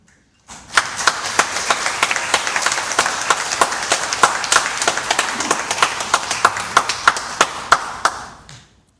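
A church congregation claps steadily for several seconds, dense applause with sharp individual claps standing out, fading at the end.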